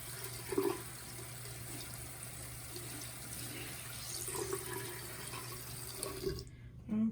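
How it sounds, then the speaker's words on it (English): Makeup brushes rinsed under a running tap, giving a steady close wash of water with a few splashier bursts as they're worked in the stream, before it cuts off abruptly near the end. "we'll do 1 or 2 more rinses"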